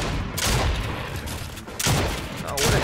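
Gunfire in a video game, several bursts of rapid shots spaced across a few seconds, close and loud.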